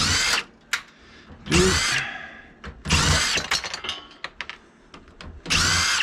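Power drill or driver unscrewing screws from a vintage Compaq ProLiant server being stripped for e-waste: several loud close whirring bursts, each about half a second, separated by clicks and rattles of metal parts, without talk.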